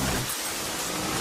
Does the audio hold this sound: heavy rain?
yes